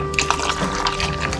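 Water pours into white sauce made with oat milk in a pan over a gas flame, giving a continuous close burbling, splashing stream with a steady hum underneath.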